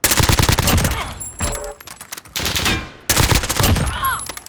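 AS VAL rifle firing in Call of Duty Modern Warfare: loud, rapid automatic bursts with a tight rattling rhythm, broken by short pauses between strings of shots.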